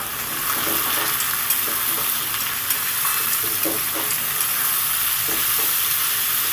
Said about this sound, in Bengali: কাঁচা লঙ্কা পেঁয়াজটাকে দিয়ে আলুটা সুন্দর করে ভেজে নেব